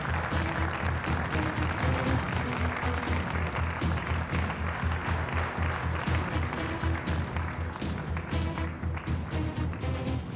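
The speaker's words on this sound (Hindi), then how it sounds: "अली कोज़ान के लिए तालियां।" An audience claps steadily throughout, a dense patter of many hands over a low rhythmic background.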